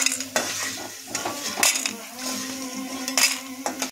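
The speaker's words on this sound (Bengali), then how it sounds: "এখন বড়িটা ভেজে নিচ্ছি" Bori lentil dumplings fry in oil in a pan while a metal spoon stirs and scrapes them, giving a soft sizzle under repeated clinks and scrapes of utensil against pan, close up.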